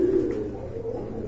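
A pigeon gives one low, soft coo, close by, among a pigeon collection offered for sale, with no voices.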